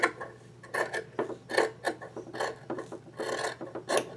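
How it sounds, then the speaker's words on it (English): Scissors trimming a messy fabric edge at the sewing table, a quick series of close rasping snips and rubs in an uneven rhythm with no talking. "Let me just trim that."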